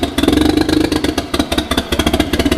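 Mitsubishi 3000GT VR4 engine running rough, a loud, close, uneven rhythmic idle with lumpy pulsing beats and clattering, no voices over it.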